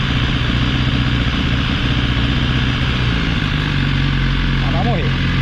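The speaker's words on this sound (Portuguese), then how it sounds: "E a moto falhando. As tossidas que eu falei." Motorcycle engine with a deliberately introduced fault, running roughly and misfiring with coughing stumbles, loud and close throughout.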